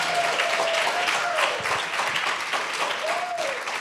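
Audience applause at a student innovators showcase, a continuous wash of clapping from a crowd lasting several seconds, with a voice briefly talking over it.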